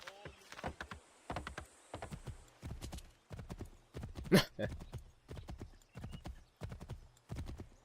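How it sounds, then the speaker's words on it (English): Rhythmic hoofbeats of a galloping horse in the video game Assassin's Creed 3 clop steadily, with a brief whinny partway through. "I'm just gonna ride on my stolen horse."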